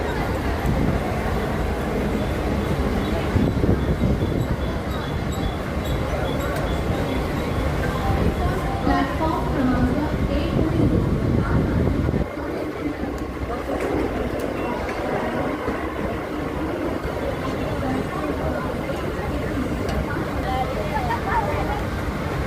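A Mumbai slow local train on the CSMT to Vashi line pulls into Govandi, a steady loud rumble from inside the carriage that drops and eases partway through, with voices talking under it.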